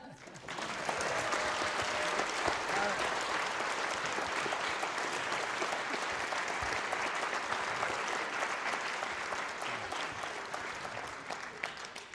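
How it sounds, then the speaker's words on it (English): Sustained, even applause from the audience at a high school spring band concert, dense clapping that fills the whole stretch and fades slightly toward the end. "give them back a round of applause"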